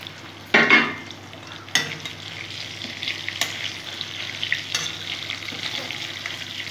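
Boiled potatoes fry in a pan of hot oil and are stirred, a steady close sizzle broken by a few sharp scraping knocks of the spoon against the pan.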